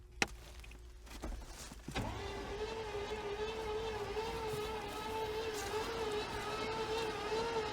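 A 1997 Chevy C1500 pickup, abandoned for years, cranks over after a few clicks, and the starter then whirs in a steady, loud, close drone that continues to the end.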